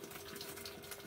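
A washing machine draws water through its inlet, a faint, steady rushing gush lasting about a second with no voices.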